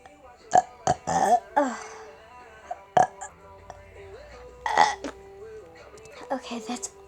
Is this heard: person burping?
yes